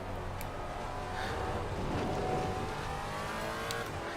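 Maserati GT4 race car engine in Assetto Corsa Competizione at the Barcelona circuit, a loud, steady, droning roar held at high revs throughout with no let-up.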